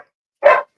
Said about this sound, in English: Little crazy dogs here.